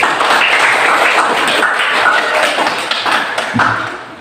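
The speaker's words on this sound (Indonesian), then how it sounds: "Kita beri tepuk tangan dulu." Dense, steady applause from an audience at a school session, loud and continuous throughout with no pauses.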